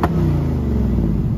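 A 2024 Ford Mustang GT V8 revving through its remote rev feature: a loud, close, steady deep engine rumble held throughout, with no voices.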